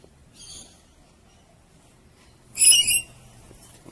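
Rainbow lorikeets give two short bursts of shrill, harmonic screeching calls, a faint one early and a louder, closer squawk near the end, with quiet background between them.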